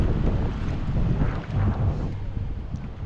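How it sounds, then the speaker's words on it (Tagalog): Strong wind at sea aboard a small boat, roaring and buffeting the microphone in loud continuous gusts, with the water churning underneath. "Ang lakas ng hangin."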